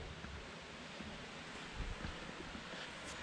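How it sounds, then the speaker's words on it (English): Pulsing water lapping in at creek level on the shore of Lake Aldred, a steady broadband wash of surf-like noise mixed with wind, constant and soft, with no voices. "We're getting this pulsing water coming in"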